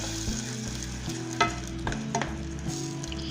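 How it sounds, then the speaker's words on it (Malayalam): A pizza topping with crushed chilli stirred while it cooks in a pan, giving a steady low sizzle with intermittent scraping strokes of a spoon, moderately quiet and close, no voices. "ഒരു മിനിറ്റ് അതൊന്ന് ഇളക്കി വേവിച്ചെടുക്കാം."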